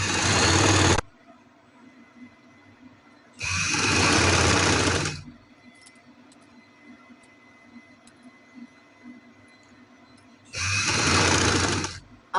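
A sewing machine stitches fabric piping in three loud, close, steady runs of motor whir and needle chatter, separated by quiet pauses with faint handling noises, and no voices are heard.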